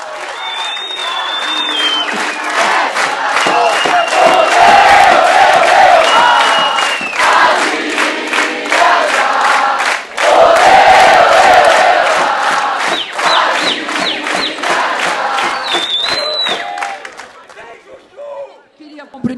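A large crowd at a political rally for a São Paulo governor candidate applauds and cheers loudly and steadily for close to twenty seconds, with shouts and whistles mixed in before it fades at the end.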